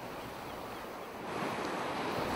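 Ocean waves roll in steadily as a broad, continuous wash of surf that swells slightly louder partway through, with no voices.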